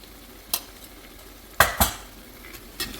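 A spoon stirs ginger garlic paste and turmeric in a pan for mutton curry. Four or five sharp scrapes and clinks against the metal sit over a faint background sizzle.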